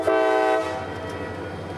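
A CSX GP40-3 freight locomotive sounds a loud, brief chord of its horn up close, then settles into a low, steady engine rumble.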